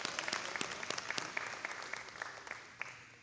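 Audience applause at a men's breakfast event, a steady patter of many hands clapping in a room with sharper individual claps standing out, fairly faint and tapering slightly toward the end.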